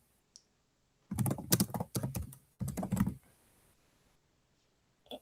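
Typing on a computer keyboard during a coding interview: two quick runs of close, crisp keystrokes in a quiet room, with a faint click just before and another at the end.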